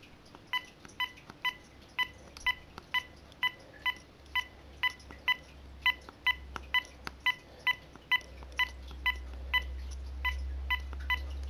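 Telephone keypad DTMF dialing tones, a long run of short evenly spaced beeps pressed one after another, clear and close with a low hum rising underneath toward the end.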